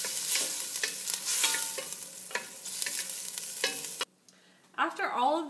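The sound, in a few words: stirring ginger, garlic and lemongrass sizzling in a pan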